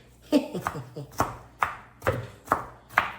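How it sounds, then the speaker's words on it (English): A knife chops onions on a cutting board for Jamaican ackee and saltfish, seven or so sharp, close, evenly spaced thuds with brief pauses between strokes, someone speaking over them. "So I cut up these onions nice and small, not too big"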